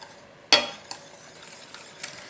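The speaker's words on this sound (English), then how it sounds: "And the butter and the cream. Mix that in well." Whisk scraping and clinking through pastry cream as butter and cream are mixed in, one sharp metallic clack followed by softer scraping strokes, close and fairly quiet with no talking.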